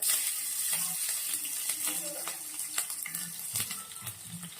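Green chilies and curry leaves, with a pinch of asafoetida, sizzle in hot oil for Sindhi dal pakwan: a steady close crackle and hiss, broken by soft scraping and stirring knocks.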